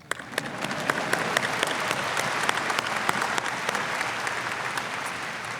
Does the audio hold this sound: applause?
yes